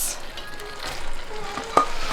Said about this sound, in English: And now we are back to the rice. We're gonna add some soy sauce.